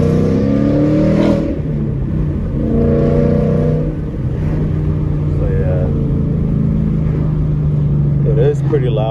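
A Mustang GT fitted with a muffler delete and an X-pipe roars as it accelerates, heard from inside the car, with loud rising engine tones and shifts under intermittent talking.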